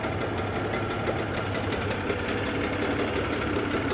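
A Suzuki 9.9-15 outboard motor runs at a steady idle with a slightly uneven, knocking pulse, droning continuously and close by.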